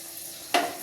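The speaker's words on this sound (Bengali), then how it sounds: "এই তেলে দিয়ে দিচ্ছি শুকনো লঙ্কা সম্বরা" Dried red chillies hit hot oil for tempering, giving a sudden loud sizzling burst after a quiet moment, followed by a second sharp flare of crackle near the end.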